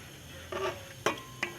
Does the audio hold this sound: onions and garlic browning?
yes